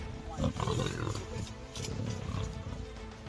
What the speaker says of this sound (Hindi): जाल में फंसे तेंदुए का वीडियो भी सामने आया है, जिसमें वो छटपटा रहा है, दहाड़ रहा है